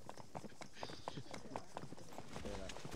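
Rhythmic clip-clop of horse hooves trotting in a video game, fairly quick and regular, under a soft game-like background.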